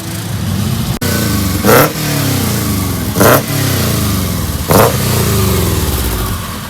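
A Subaru engine fitted in a VW bus with a custom exhaust idles with a low rumble and revs up three times in short, evenly spaced bursts, close and loud.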